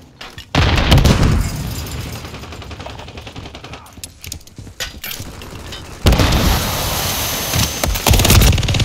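Heavy gunfire and explosions from a Call of Duty Modern Warfare 3 Kill Confirmed match on Mercado Las Almas, with a loud frag grenade blast amid sustained rattling fire and a second surge of booming action near the end.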